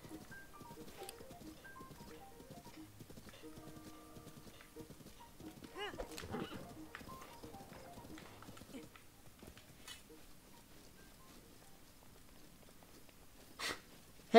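Steady hoof clip-clop from a horse in Zelda: Breath of the Wild, with a brief whinny-like flourish midway, over soft background music and faint chatter.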